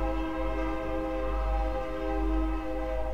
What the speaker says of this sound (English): that is a train that is vibrating the whole house.